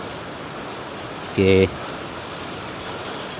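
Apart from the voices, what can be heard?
heavy rain in Ahmedabad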